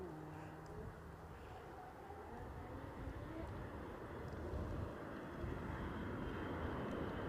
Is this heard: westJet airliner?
yes